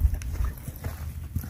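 Horse hooves clip-clopping outdoors in a series of soft, uneven thuds close by, with low rumbling wind or handling noise underneath.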